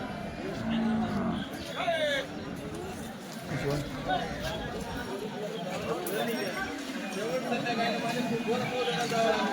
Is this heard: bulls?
yes